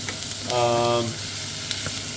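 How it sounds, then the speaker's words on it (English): Potatoes and leeks frying in a pan for soup, a close, steady sizzle with a brief stir partway through and a few light utensil taps. "I want to keep stirring these, mixing them up"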